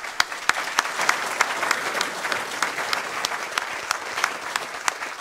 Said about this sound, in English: Round of applause for Paul and James.